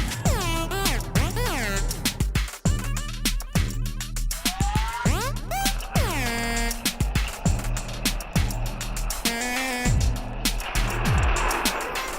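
Race car engine revving and shifting through gears, with rising and falling whines, brief tire squeal and a steady low drone, loud and close with faint background noise.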